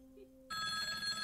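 In a video game, a telephone bell suddenly starts ringing after a quiet moment, with a bright, steady electronic tone that holds close and clear to the end.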